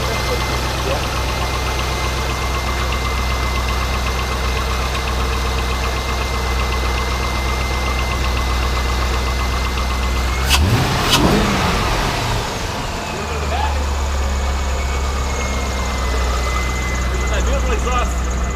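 A Corvette C5 Z06 engine idles cold with a steady, deep exhaust rumble, loud and close throughout, briefly disturbed by a clank midway, with people talking over it.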